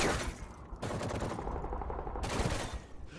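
Gunfire rattles through a Call of Duty: Modern Warfare 3 Search and Destroy clan match, with sustained bursts of automatic shots crackling steadily at moderate distance for the whole stretch, with no talk.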